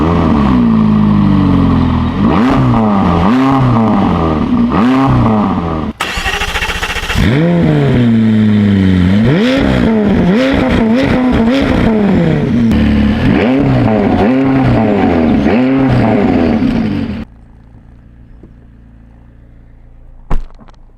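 A McLaren 570S sports car engine revs and accelerates repeatedly, loud and close, with rising pitch sweeps through gear changes, then drops to a quiet idle near the end; no talk.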